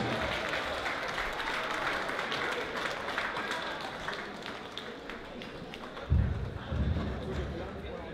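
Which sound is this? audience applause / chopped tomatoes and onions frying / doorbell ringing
audience applause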